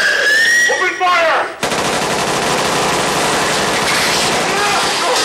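Sustained automatic gunfire in the horror video game Backrooms: Stalker, a loud continuous burst filling most of the clip after a brief shouted voice at the start.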